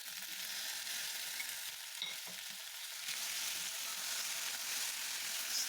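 Tomatoes frying with onions in a pot for fish stew give a continuous bright hiss of sizzling oil with a brief stirring clatter midway, steady and close, no talking.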